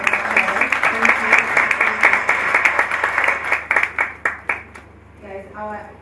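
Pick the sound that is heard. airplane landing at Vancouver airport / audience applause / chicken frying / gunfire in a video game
audience applause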